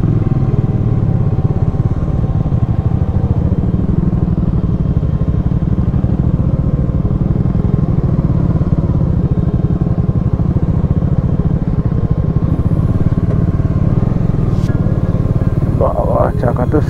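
A motorcycle rides over a rough, landslide-damaged mountain road in Sikkim, its engine a steady loud drone with rattling clatter throughout, wheels skidding on the broken surface.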